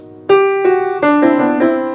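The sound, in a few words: piano playing two notes at a time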